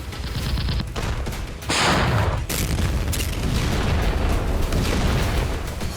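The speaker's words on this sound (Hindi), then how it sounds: "फिलहाल यूक्रेनी फौज की आर्टिलरी आग उगल रही है।" Ukrainian army artillery fires in loud, booming blasts. Sharp reports and rumbling echoes follow one another over several seconds in a continuous, harsh outdoor din.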